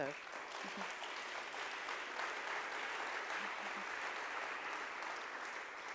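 Applause from the audience at a public meeting of the Alexandria Equal Justice Initiative, a steady, fairly faint wash of clapping across the room, with a few low voices briefly audible beneath it.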